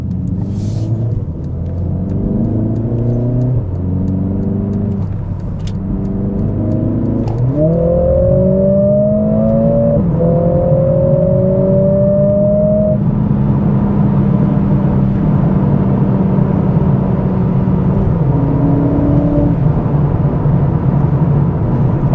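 A Mercedes CLA45 with a 420 hp engine in race mode, pulling hard through gears from inside the car: loud rising engine drone, several quick upshifts with brief dips, then a sustained high-revving roar over road rumble.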